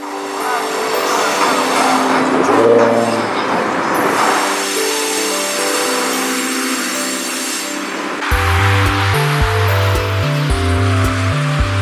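A Norfolk Southern manifest freight train rolls past a bridge in Atlanta, a steady loud rumble of rail cars with wheel and flange noise, and heavy low thumping of passing cars toward the end.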